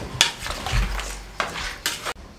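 Mutton being stirred by hand with green paste, salt and cooking oil in a metal pot, giving a few soft scraping and clinking knocks of a utensil against the pan, quiet and close.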